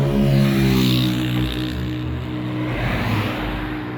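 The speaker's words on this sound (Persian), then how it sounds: "تا چش کار میکنه ترافیکه" Steady road traffic from cars backed up in a long jam, a continuous low engine rumble and hum that swells slightly as vehicles move, with no talking.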